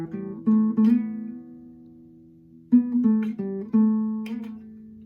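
Close, solo acoustic guitar playing a fingerpicked passage from a song, live version: a few plucked chords, a long sustained ring, then more picked chords and notes.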